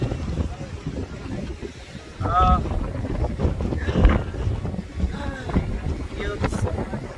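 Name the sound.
strong wind at a Cancun beach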